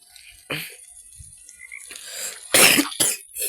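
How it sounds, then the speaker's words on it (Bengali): A person coughing: a few short, sharp bursts spread over a few seconds, close and fairly loud, with quieter breathy sounds between them. "একটু কাশি"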